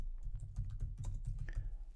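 Steady, rapid clicking of computer keys as someone types on a keyboard, close and even in rhythm with no voices.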